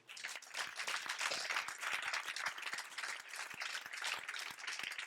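A worship congregation claps and cheers in a dense, continuous burst of applause that fills the space, steady and fairly close, with no speech on top.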